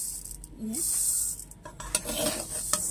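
Mung dal sizzles and rustles in a hot pan, with a few scraping stirs and light clinks close by, steady and moderately quiet.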